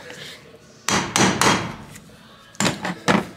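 A hammer strikes a trailer wheel bearing race, driving it into its seat with about five sharp, metallic blows in two close bursts, heard near and loud.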